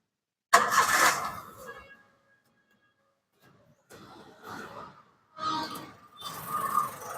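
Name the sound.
car engine starting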